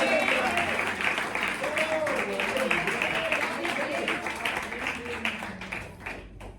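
Church congregation clapping loudly in praise during a Pentecostal service, a dense steady wash of many hands with voices singing or shouting over it, fading slightly toward the end.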